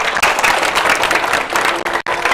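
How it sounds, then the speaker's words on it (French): Children applauding together at a school-style gathering, sustained dense clapping that holds steady for a couple of seconds with a brief break near the end. "Allez, on applaudit pour nous-mêmes"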